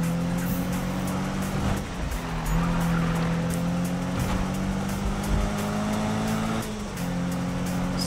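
Race car engine roaring steadily with tires squealing and skidding during a sprint race in the video game Need for Speed (2015), loud and continuous with sustained engine drone throughout.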